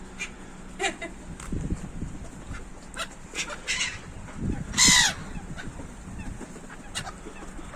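Park birds at a pond call in scattered caws and squawks, some close and loud, under low chatter and a light background hum.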